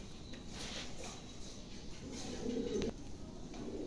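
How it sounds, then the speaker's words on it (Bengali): A pair of quality pigeons in a new cage coo softly nearby, with low throaty coos repeating over faint background hum. "দেখেন চমৎকার একজোড়া কবুতর"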